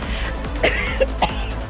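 A character in the mobile game NIKKE coughs in a few short bursts, with three separate hacking coughs at moderate loudness over a low ambient hum and no speech.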